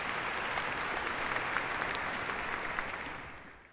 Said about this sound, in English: Clap if you've used one of our free products.